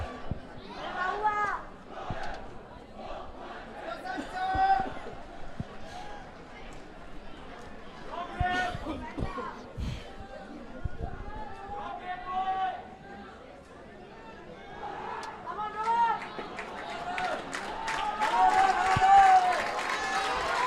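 A crowd at a school cricket match between Royal College and S. Thomas' College, chattering and cheering steadily as the team takes the field, swelling louder near the end, with voices throughout.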